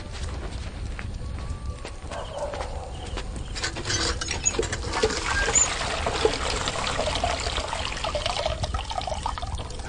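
Steady splashing of water running into a container from an automatic fill, a continuous rushing trickle with faint background noises throughout.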